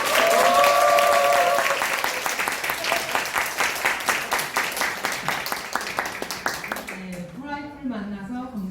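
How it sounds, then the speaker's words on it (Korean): An audience at a business seminar lecture applauds to welcome a guest speaker, with dense, steady clapping that slowly thins out and fades. Over the last seconds the speaker begins talking into an amplified microphone. "모실 때 큰 박수 부탁드리겠습니다"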